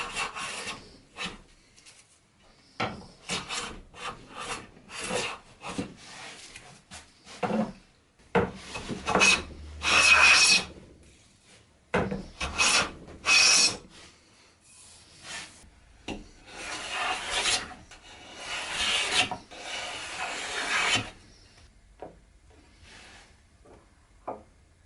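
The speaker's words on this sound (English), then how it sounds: "work begins with rough sawing and then planing everything straight and square" Oak boards being rough-sawn and planed by hand, giving repeated scraping, rasping strokes in uneven bursts, close and fairly loud, with short pauses between passes and no talk.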